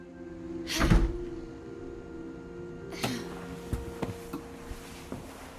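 A door opens in the video game What Remains of Edith Finch: a loud creaking sweep, then after a pause a heavier thud and a few soft knocks and rattles settling, alone with no talk.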